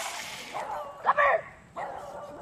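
A single dog barks or yips once in a short, sharp burst, moderately close, amid outdoor background noise and faint voices.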